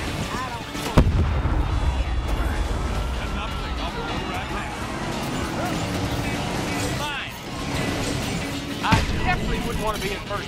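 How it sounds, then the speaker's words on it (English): Tracking rockets blast and explode during a Cars 3 racing game in an Arizona canyon, sharp booms over continuous engine roar, with a voice talking throughout. "Tracking rockets are in hot pursuit."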